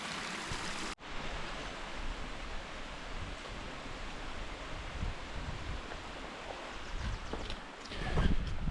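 High Creek runs along the Vivian Creek Trail toward Mt San Gorgonio, a steady broadband rush of flowing mountain water that starts abruptly after a brief cut, with no talking.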